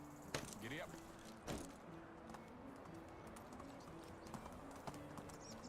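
A horse's hooves clip-clop at a steady pace while it is ridden in the video game Medieval Dynasty, quiet and fairly distant, with faint bird coos in the background.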